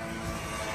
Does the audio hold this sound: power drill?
no